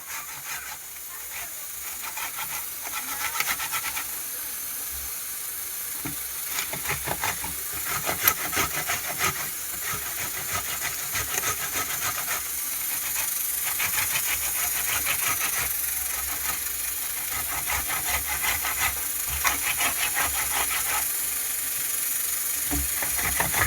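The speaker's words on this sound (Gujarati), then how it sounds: "ખમણીથી ખમણી નાખવાના." Two tomatoes being rubbed over a hand grater for a Punjabi rajma gravy, producing a continuous rasping, scratchy hiss with rapid repeated strokes, close-up and fairly steady throughout.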